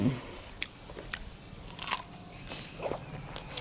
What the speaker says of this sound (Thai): แช่เย็นๆนะคะแล้วก็มากิน